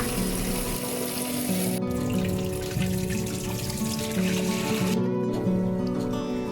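Tap water runs steadily while an electric kettle is rinsed after descaling, a continuous close rush of water without a break.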